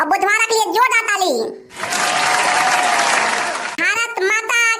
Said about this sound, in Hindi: बहुत बढ़िया डांस मंटोरा और बुधवारा के लिए जोरदार ताली।